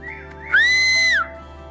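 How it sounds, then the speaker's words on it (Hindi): A person whistles from up on a forested hillside in a remote mountain village, producing one loud, sustained rising-then-falling whistle that stands out over steady background ambience. "ऊपर से कोई सीटी बजा रहा है, कोई आ रहा है मुझे लग रहा है"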